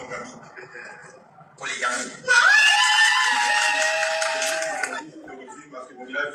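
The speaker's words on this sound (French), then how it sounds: "Faut voir les villageoises là crier" Village women at a wedding shout and cheer, rising into a loud, sustained high-pitched collective cry over a murmuring crowd before dying back down.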